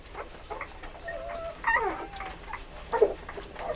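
Newborn African wild dog pups whimpering softly in a den, with scattered thin yelps and whines rising in a few short bursts over low background hiss, fairly faint and close.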